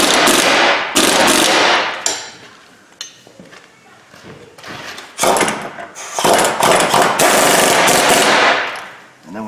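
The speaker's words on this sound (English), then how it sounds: "We're going to snug up the bushings and the bottom of the shock." Rear shock and bushing bolts on a Kia Sedona being snugged up with a loud power impact tool, in several rattling bursts separated by short pauses, close to the microphone.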